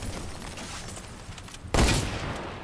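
Video game gunfire hits a snowman: a steady noisy backdrop, then a sudden loud burst of shots that lingers to the end.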